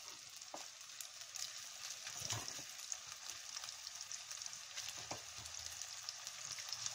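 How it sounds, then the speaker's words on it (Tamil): Potato pieces frying in hot oil for a sweet corn gravy, a steady, even sizzle at low level with occasional faint stirring scrapes and small pops, with no talking. "இது எண்ணெயிலேயே நல்லா பிரட்டி எடுத்துடலாம்."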